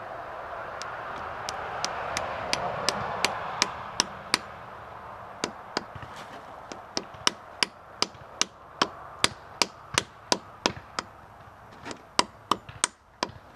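A metal sap tap is hammered into the drilled hole in a tree trunk with a series of sharp, close hammer strikes. The blows come in quick, fairly even bursts with short pauses between groups, and a soft rustle sits underneath.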